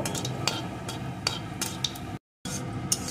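Whole cumin seeds and asafoetida frying in hot oil, a soft steady sizzle broken by light crackles and stirring scrapes, with a brief cut to silence near the end.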